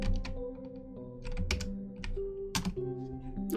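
Close, fairly loud typing on a computer keyboard during a game development stream, with irregular bursts of sharp key clacks over a low steady tonal hum, no speech.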